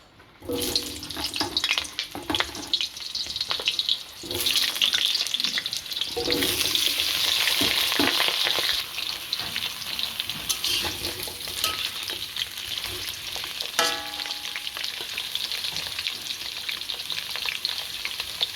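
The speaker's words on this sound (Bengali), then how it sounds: "তেল গরম হয়ে এসছে, এবার আমি আলুগুলোকে ছেড়ে দেবো।" Potatoes frying in hot mustard oil give a loud, steady sizzle with crackling bursts, joined by occasional clinks and stirring noises. No one speaks.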